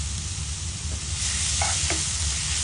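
Squid, prawns and chopped cheese with red chili being stirred in a pan over the heat, a steady close sizzle with a couple of soft utensil scrapes, no voices.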